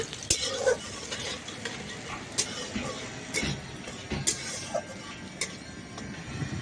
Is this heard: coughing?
no